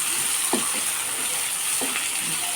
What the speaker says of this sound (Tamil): நல்லா ஆனியன் பொன்னிறமாக வதங்கிட்டு இருக்குது